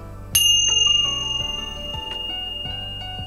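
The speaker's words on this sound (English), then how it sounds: "use these cool little bells" Small bells ring out one after another, each bright ding lingering and overlapping into a shimmering, sustained tone.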